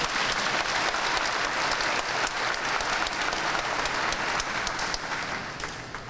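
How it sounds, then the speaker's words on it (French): A Catholic congregation claps in a dense, sustained round of applause that holds steady and then tapers off at the end. "Nous applaudissons maintenant."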